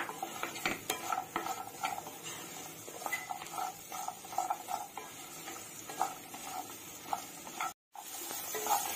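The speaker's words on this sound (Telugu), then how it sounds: "అలాగే వీటితో పాటు పచ్చిమిర్చి కూడా వేసుకుంటున్నాం." Coconut pieces and green chillies fry lightly in a pan for coconut chutney, with a soft sizzle under frequent close stirring clinks and scrapes, and a brief dropout near the end.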